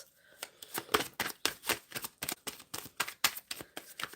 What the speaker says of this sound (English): Oh, I was told to give it a good shuffle.